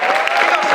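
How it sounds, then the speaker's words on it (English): Audience applause at a community speaking engagement, a dense steady wash of many hands clapping close by, sustained without a break for the whole short stretch. "Give yourself a round of applause."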